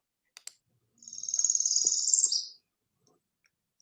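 Small songbird delivers a rising, buzzy trill lasting about a second and a half, loud and near, preceded by two short ticks and followed by quiet.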